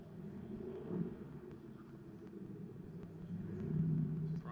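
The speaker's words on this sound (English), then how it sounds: "So they're given the opportunity to warm the cars up." Mercedes racing cars warming up on a circuit at a Mercedes Stars and Cars event, a steady distant engine rumble that swells toward the end, with no voices.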